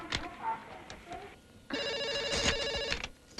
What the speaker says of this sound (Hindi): मीनाक्षी को फोन करते हैं, सब क्लियर हो जाएगा।